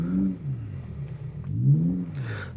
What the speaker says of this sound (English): if you click sound generator, this will sound like, I believe it sounds like a Boxer engine